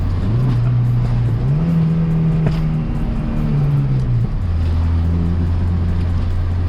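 A turbocharged Honda Integra DC2 with a B18C engine runs at about half throttle, its steady drone rising and falling in pitch as revs shift, loud and close with no talking.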